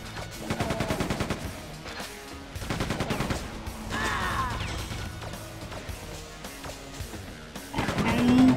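Rapid machine-gun bursts in Quake II ring out loud and close in several stuttering volleys, mixed with other game effects and crashes, with no voice over them.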